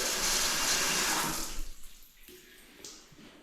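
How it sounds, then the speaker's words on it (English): Soapy water pours and gushes across freshly laid floor tiles in a loud, steady wash for over a second, then thins to a faint trickle and a few light splashes. "Watch the soapy water."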